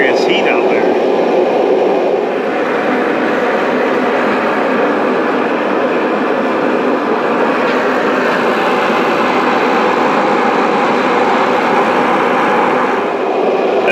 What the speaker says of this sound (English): This thing's blowing some serious heat out there.